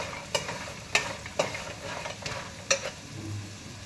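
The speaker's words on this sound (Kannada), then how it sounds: "ನೋಡಿ ಕಡಲೆಕಾಯಿ ರೋಸ್ಟ್ ಮಾಡ್ತಾ ಇದ್ದೀನಿ" Peanuts being dry-roasted and stirred in a pan, with a soft sizzle and several sharp scraping clicks of the stirring at irregular intervals, fairly quiet and close, no voices.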